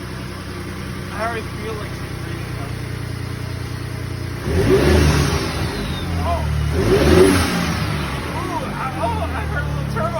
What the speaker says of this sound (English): I heard a little turbo noise.